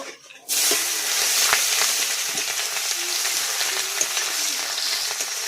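Onions hit hot oil with five-spice and bay leaf, jumping from near quiet into a loud, steady sizzle that crackles on with small pops and occasional stirring clinks.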